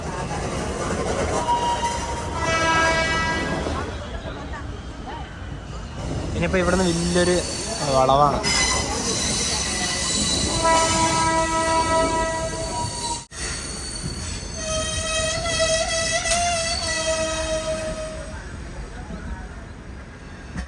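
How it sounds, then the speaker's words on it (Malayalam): The Tiruchirappalli–Howrah Express sounds several long, drawn-out tonal horn blasts and squeals of wheels over a constant loud rolling rumble, while someone speaks briefly. "ഇവിടെ കാണുന്ന ട്രെയിൻ തിരുച്ചിറപ്പള്ളി ഹൗഡ എക്സ്പ്രസ് ആണ്"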